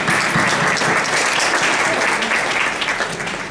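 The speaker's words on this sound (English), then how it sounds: "you give her a big applause." An audience applauds at a fall sports event, with steady, dense clapping that stays loud and close for the whole stretch.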